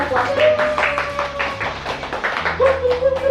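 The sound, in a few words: two people clapping hands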